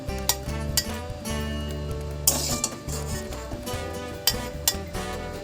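Roasted curry leaves are scraped into a mixing bowl with a few sharp metal clinks of spoon on bowl, scattered irregularly over steady background music.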